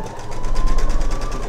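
A sewing machine runs steadily, stitching a half-inch seam across the top of a pillow with right sides together; it is a close, even, rapid mechanical whirr with a fast pulsing rhythm and no talk.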